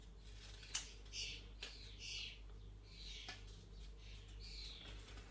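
Sparrow and starling chicks beg for food in a garden, giving faint, repeated high chirps and squeaks from a distance over a steady low hum.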